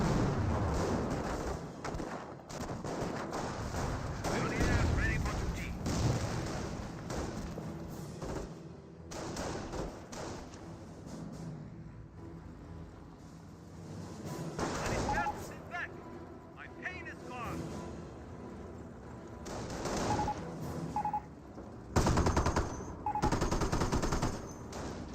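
Machine-gun bursts, rifle fire and dull artillery thumps from a Company of Heroes 1 battle, continuous and mid-level, heard beneath a caster's steady commentary.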